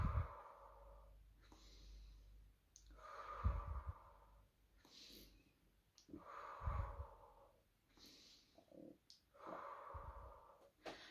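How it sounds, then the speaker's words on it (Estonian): Slow, deep breaths during a guided meditation, each inhale and exhale audible in a calm, regular cycle of about four breaths, close and soft with no talking. "Ja hingamine."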